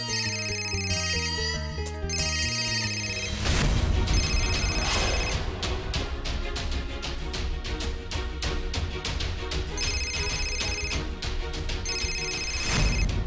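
A telephone rings with a repeating electronic ringtone melody over background music in a Marathi TV serial scene, the call coming from the father; steady and fairly loud throughout, with no talk.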